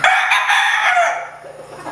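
Straight-comb gamecock rooster crowing once, a loud close cock-a-doodle-doo lasting about two seconds, with no talking.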